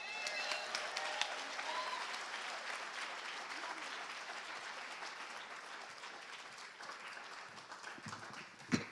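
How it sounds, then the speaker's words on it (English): Audience at a university tribute ceremony honoring Rev. Dr. Martin Luther King Jr. gives sustained applause, a dense wash of clapping that gradually fades over several seconds, with a sharp louder clap near the end. "Another round of applause for Dr. Haynes, please."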